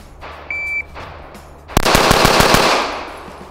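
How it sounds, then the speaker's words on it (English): A pistol is fired at 7 yards in a rapid shooting drill, six shots coming in under a second as one fast, loud burst, preceded by the beep of a shot timer. "you gotta fit 5 more shots in under a second"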